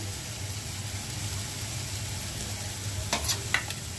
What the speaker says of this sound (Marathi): आता याला मिक्स करून घेऊया।